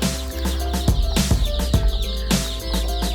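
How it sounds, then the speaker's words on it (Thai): Many young chicks on a Thai poultry farm chirp and peep steadily in a dense flock, with occasional sharper knocks and rustles among the calls. "วันนี้เราจะพามาชมลูกไก่นะครับ ลูกไก่ประจำสัปดาห์นะครับ"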